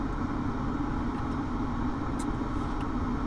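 A 2001 Mercedes SL500 drives through Los Angeles city streets, heard as a steady, close, continuous road and engine rumble with even loudness throughout and no talking.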